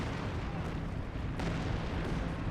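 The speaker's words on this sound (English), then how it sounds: "Lots of artillery fire in this region." Artillery fire across a battlefield in Company of Heroes 2, a dense, continuous rumbling wash of distant blasts and crackle with no clear pauses, steady and heavy throughout.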